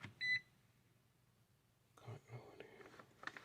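A multimeter gives one short, high continuity beep near the start while testing an oil pressure sensor on a Volvo XC90 V8. Quiet follows, then soft, muffled talk and handling noise.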